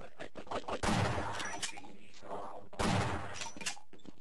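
Gunfire in the Half-Life video game, with two dense bursts of rapid shots separated by scattered single cracks, fairly faint in the mix.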